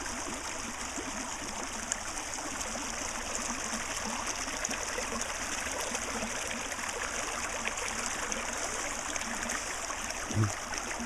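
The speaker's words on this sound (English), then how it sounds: "I stopped because of the very loveliness of this water." Stream water flowing, a continuous rushing, trickling wash at a steady level for the whole stretch, with one soft knock near the end and no talk.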